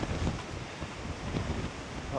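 Strong wind buffets the microphone on an exposed ledge on Kinder Scout, a loud, rough continuous rumble that swells and eases over about two seconds.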